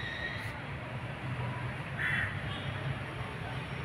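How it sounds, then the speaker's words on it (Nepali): A crow caws around a house garden where dragon fruit plants grow, a couple of short, fairly faint calls rising over a steady low background hum with no talking. "काग भात खान आउँछ अहिले।"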